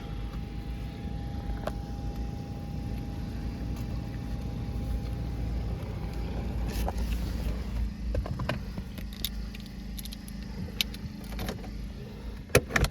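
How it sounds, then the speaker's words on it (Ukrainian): A Volkswagen Golf 5 is started: a low idle-like hum with a faint tone, then several sharp mechanical clicks and rattles building toward the end, fairly close and at moderate level, with no speech. "Зараз заведемо автомобіль."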